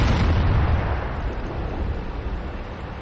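A tank gun fires in the World of Tanks video game, one heavy booming blast with a low rumbling tail that slowly fades.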